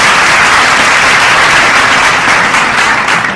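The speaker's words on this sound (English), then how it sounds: "Clap for yourselves." Loud, dense applause from the audience at a secondary school debate, continuous clapping filling the room at close range throughout.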